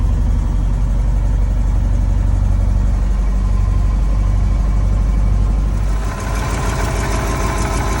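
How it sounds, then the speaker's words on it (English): A heavy International Loadstar truck engine idles steadily and loudly up close, with a rougher, brighter rise in revs near the end. "It's running. It's idling."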